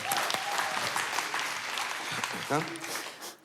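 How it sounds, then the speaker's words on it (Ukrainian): Theatre audience applause greets two clowns taking the stage at a variety show, clapping mixed with voices and cheering, briefly louder midway before tapering off. "Ваші оплески!"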